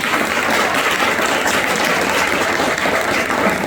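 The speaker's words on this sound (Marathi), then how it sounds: "मला असं वाटतं तिच्यासाठी सगळ्यांनी टाळ्या वाजवाव्या." An audience claps without a break at a school reunion, a dense, even wash of applause from a crowd that holds steady for several seconds.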